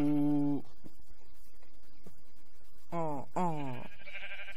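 Sheep bleat in a survival video game, sounding twice as wavering, harmonic-rich calls: one at the opening, then a pair of closely spaced bleats near the end over a quiet background.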